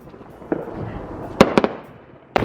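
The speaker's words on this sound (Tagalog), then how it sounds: "Ganito ang fireworks sa Utah guys kapag Independence Day dito guys." Independence Day fireworks in Utah burst in a quick series of loud, sharp bangs and crackling pops, some close together, over a low background hum.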